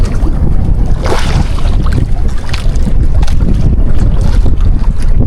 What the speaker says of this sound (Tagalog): At mahangin na talaga